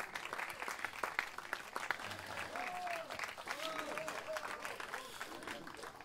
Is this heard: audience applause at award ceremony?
yes